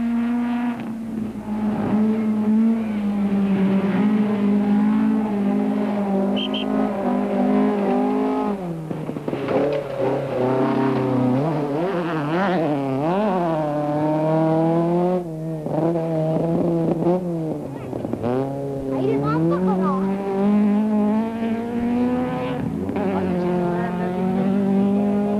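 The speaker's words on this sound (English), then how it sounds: "We pick up on the now fourth-placed Ford as Pond pilots the Sapphire through this unique stage." Ford Sierra Sapphire rally car driven flat out on a flat track raceway stage at the 1990 Wesbank International Rally, its engine revving high and dropping through gear changes with sweeping pitch climbs, loud and close throughout.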